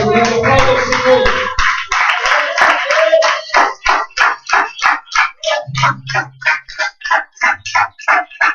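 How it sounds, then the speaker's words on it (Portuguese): A church congregation at an evangelical preaching service claps along in unison, with sharp, loud, rhythmic claps at a steady beat that follow a few seconds of voices and carry on alone to the end. "Aleluia, aplauda o Senhor."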